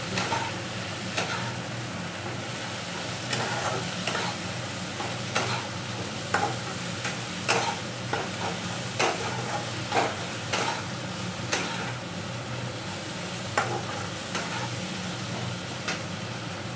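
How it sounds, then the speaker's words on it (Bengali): Katla fish chop mixture frying in a pan, a constant bright sizzle under regular light scrapes and taps of a spatula every second or so, close and steady throughout with no voices. "এবার এটাকে ভালো করে কাঁচা গন্ধটা যাতে না থাকে সেভাবে ভেজে নিতে হবে।"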